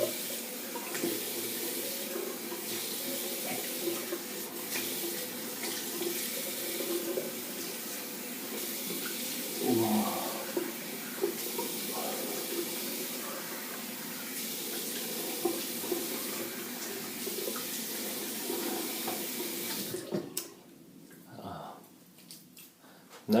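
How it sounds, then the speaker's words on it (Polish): Cold tap water runs steadily into a sink during a straight-razor shave, a continuous close splashing hiss with a brief burst of handling noise near the middle, stopping abruptly near the end. "A teraz yy, zimna woda na twarz."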